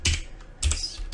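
Keystrokes on a computer keyboard as a command is typed into a Windows command prompt, a few quick clustered clicks close up with short pauses between them.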